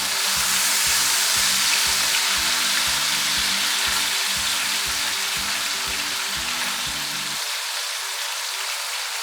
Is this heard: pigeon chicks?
no